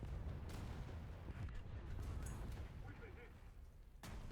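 A tank cannon firing in War Thunder, heavy low booms rumbling under dense battle noise, with a couple of sharp bursts standing out and a voice talking over the action.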